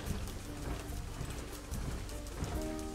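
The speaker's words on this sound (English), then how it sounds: "they didn't change the footstep sound from the regular hippo" Heavy, thudding footfalls of a pygmy hippo in the zoo game Planet Zoo, using the same steps as the full-size hippo, repeat in a steady, close, fairly loud clopping rhythm with no talking.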